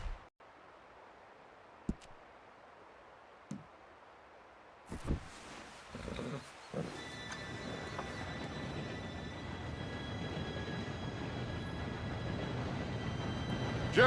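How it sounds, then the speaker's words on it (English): A steam-era train in Red Dead Redemption 2 approaches, heard as a low rumble that grows steadily louder and denser after a few sharp clicks and thumps, with a faint high whistle-like tone joining in as it nears; no voices. "Train should be here any minute."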